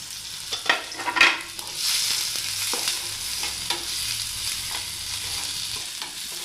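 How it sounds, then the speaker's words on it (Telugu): Garlic and onion frying in hot oil, a soft close sizzle with a few scraping stirs at the start, steady and fairly quiet throughout. "ఇప్పుడు మనం వెల్లుల్లి వేసుకుందాం, ఉల్లిపాయ వేసుకుందాం. ఇది మంచిగా వేయించుకుందాం."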